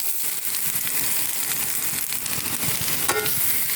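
Boiled, peeled sweet potato pieces frying in a pan, a continuous close sizzle with soft stirring scrapes and small crackles, with no talk.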